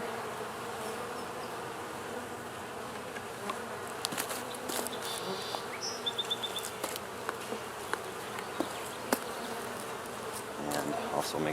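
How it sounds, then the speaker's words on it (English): Honey bees buzz steadily around an open beehive box while it is being stacked and centered, a dense continuous hum with small knocks and rustles of hive handling throughout. "Get the bees out of the way here."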